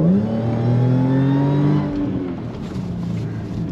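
A supercharged Audi S5 accelerates hard on a soaked, greasy road, its engine note rising steadily in pitch and then easing off as the revs drop; loud and close, with no talk over it.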